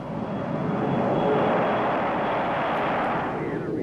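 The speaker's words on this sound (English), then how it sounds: "the B-52 took off with Major Bob White in the cockpit of the X-15 number three" A B-52 bomber carrying the X-15 number three rocket plane takes off, its jet engines producing a loud, steady, broad roar that holds without a break.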